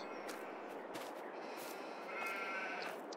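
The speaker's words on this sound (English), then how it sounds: "I heard a sheep." Sheep bleat in the Farming Simulator 22 video game on a farm, a short bleat rising out of a steady background of ambient farm noise near the end.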